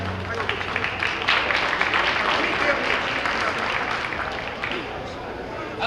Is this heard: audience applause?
yes